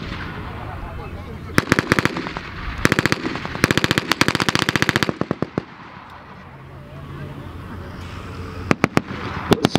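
Bursts of machine-gun and rifle fire crackle across a battle reenactment show with tanks and trucks, with artillery rounds exchanged between two forces; rapid rattling volleys come in clusters, some loud and close, with a quieter lull midway and a few isolated shots near the end.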